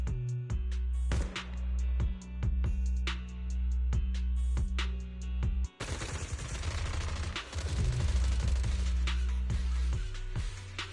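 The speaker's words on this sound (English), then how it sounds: "Gunfire?" Sharp, regularly spaced gunshots in Zenless Zone Zero over a low droning music bed, followed by a denser, louder burst of chaotic firing and impacts.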